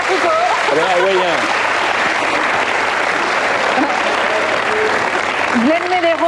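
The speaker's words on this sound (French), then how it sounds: "Nous pouvons applaudir Jean-Pierre Foucault" A TV studio audience on a French variety show applauds loudly and steadily throughout, with voices and a singer's melodic vocal lines rising over the clapping near the start and the end.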